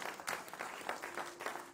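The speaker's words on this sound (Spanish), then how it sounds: "aplauso al Señor" A church congregation applauds during a bilingual service, producing a brief, fairly faint patter of clapping with a few sharper individual claps heard at a distance.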